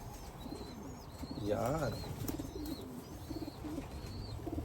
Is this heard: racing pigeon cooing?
yes